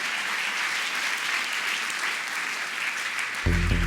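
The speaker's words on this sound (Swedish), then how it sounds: "Du får en fantastisk applåd." Sustained applause from a stage-show audience during a mentalist's live performance, dense and even throughout, with a low thump entering just before the end.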